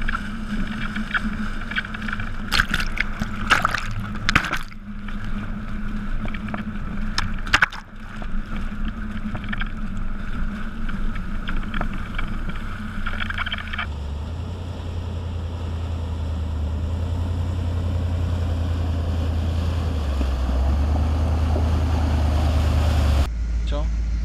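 A vehicle pushing through deep water on a Mongolian road, with rushing, churning splashes and a low engine rumble growing steadier later, while people talk over it.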